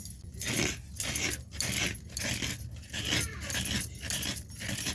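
Fresh coconut grated by hand while preparing a palm-fruit cake pitha, giving repeated rhythmic scraping strokes, about one every half second, close and steady with no talk.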